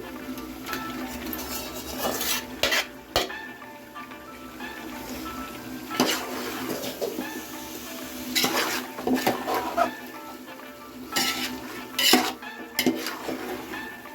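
Marinated chicken with chilli powder, turmeric and salt is stirred in a pot for a spicy chicken dum biryani: repeated clattering scrapes and knocks of a metal spoon against the pan, with a faint sizzle underneath.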